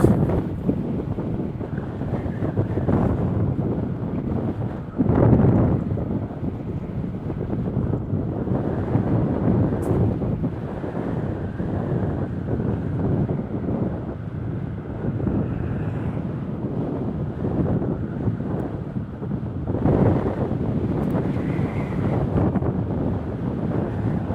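Strong wind roaring and buffeting a microphone, with heavy gusts that swell and fade across a long stretch and no talking.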